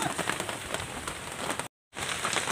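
Steady rain pattering on a surface, dense and even, with a brief total dropout before the downpour resumes.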